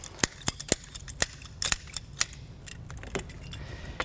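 Trim molding cutters snipping Fox Body Mustang rubber weatherstrip, a quick series of sharp clicks and snaps close up, irregular in rhythm and fairly faint, with no talking.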